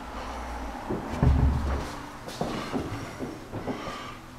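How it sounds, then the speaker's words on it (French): New kitchen cupboard door opened and closed, a few soft wooden knocks and clatters up close over quiet room tone, with one heavier thump early on. "Porte d'armoire neuf."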